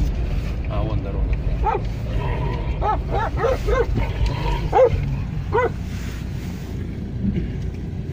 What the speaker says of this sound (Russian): Почему-то собака увидела телефон и даже